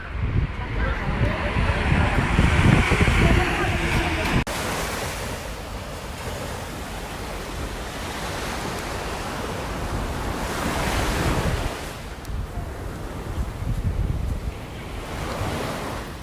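Surf rolling onto a beach near Busan Harbor Bridge in South Korea, a steady broad wash of waves with wind buffeting the microphone throughout, swelling and easing without pause.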